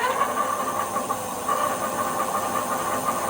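A Luckeep M5 Max 52V electric bike motor whines steadily under throttle, with a constant mid-pitched hum and some hissy wind noise throughout, no speech.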